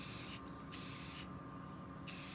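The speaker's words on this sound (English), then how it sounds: "So we're going to take our black spray paint." Black spray paint hisses from an aerosol can in short, close bursts, with brief pauses between sprays.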